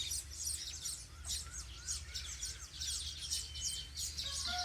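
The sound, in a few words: weaver birds chirping while building a nest on a date tree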